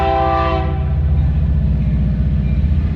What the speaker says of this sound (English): Don't mind the train